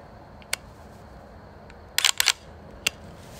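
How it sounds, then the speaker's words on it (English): A Mantis Blackbeard dry fire system on a rifle gives sharp, faint mechanical clicks: one isolated click, a quick cluster of three, then a final click, set against quiet outdoor background hiss. "What you just heard there is the Mantis Blackbeard dry fire system."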